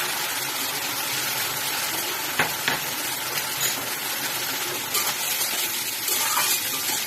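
Cumin, coriander and chili powder paste mixed with water fries for egg curry with potato and papaya, a loud, dense, watery sizzle with occasional stirring clicks throughout.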